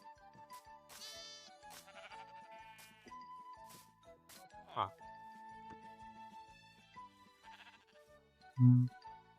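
Sheep bleat in the Minecraft video game, several wavering bleats over background game music, with one louder sharp sound near the end.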